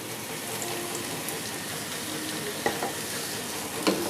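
Oil sizzles hard in a pan for Punjabi-style mutton chaanp masala, a steady close crackle with a couple of sharp ticks of utensil contact.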